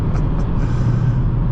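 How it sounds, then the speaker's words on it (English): A 2026 Nissan Sentra SR compact car accelerates to pass on the road, with a steady, loud engine and road rumble heard from inside the cabin and no talking. "passing power here is not a problem at all"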